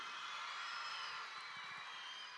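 Audience applause at a youth empowerment gathering honouring funders and sponsors, a steady dense patter of many hands held at a faint, even level throughout.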